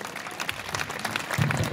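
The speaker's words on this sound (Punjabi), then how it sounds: "ਇਸ ਲਈ ਬਹੁਤ ਸਾਰੀ ਤਾਲੀਆਂ" Audience at a comedy show in Pakistan applauding, a brief burst of scattered clapping that builds slightly toward the end, moderately loud with some crowd murmur.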